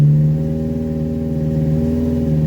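A rebuilt A-series car engine runs steadily at a fast, raised idle, a close, continuous mid-pitched hum with a faint regular pulse and no talk.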